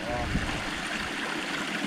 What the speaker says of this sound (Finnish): Vesiputouksessa vähän vettä.